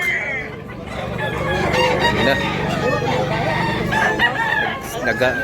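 Roosters at Tabunok, Cebu City crowing and clucking loudly close by in a busy, layered chorus, with a voice speaking briefly.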